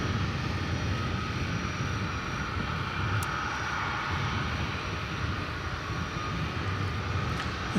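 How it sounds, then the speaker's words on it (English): A Qatar Airways Boeing 777 taxis at DFW Airport, its steady jet engine roar filling the scene with a broad, constant rumble and whine that stays loud and unchanging throughout, with no voices. "a Qatar Airways 777 is taxiing now"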